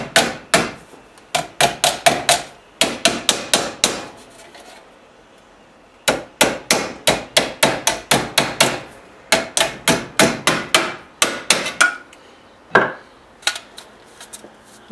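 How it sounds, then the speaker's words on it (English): Metal ductwork for a woodworking dust collector being struck with a hammer, sharp ringing blows in rapid bursts of several hits, close and loud, separated by short pauses. "Hammer left, hammer right, whichever, and then I like to hammer the top."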